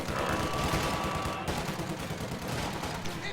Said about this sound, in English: Volley fire going out from within the building again.